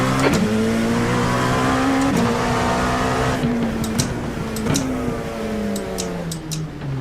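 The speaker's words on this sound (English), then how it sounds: "There's a car approaching." A race car in an IMSA racing game at Long Beach drones close by at high revs, with repeated upshifts and downshifts as the engine pitch climbs and drops, steady and loud, with no talk.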